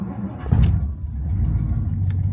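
A Lexus GX470 SUV with a Toyota 2UZ V8 is on the move, giving a steady low engine rumble and road noise from inside the cabin. There is a brief swell partway through.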